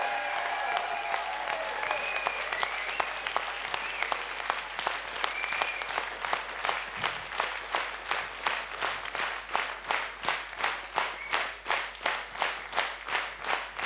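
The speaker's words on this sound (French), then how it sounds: "On compte sur vous pour l'applaudir comme il se doit maintenant" An audience applauds skipper Jean Le Cam, twentieth in the 10th Vendée Globe, at a press conference: steady clapping that thins into slower, distinct claps and sparse rhythmic clapping toward the end.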